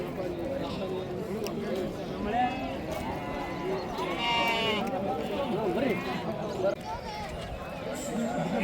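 Several sheep bleat repeatedly nearby at a livestock market in Harihar, Karnataka, overlapping with people talking and some hoof-like clatter in the background.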